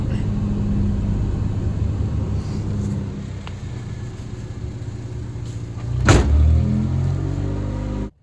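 A car engine idling after a cold start in a hard freeze, running warm: a steady low rumble throughout with a few soft clunks and one sharp knock near the end before it cuts off.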